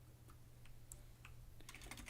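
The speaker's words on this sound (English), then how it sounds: "what you do is you type in your" Keys on an old computer keyboard are typed to enter a device number: a quiet run of light clicks, sparse at first, then a quicker cluster of taps near the end, with no talk.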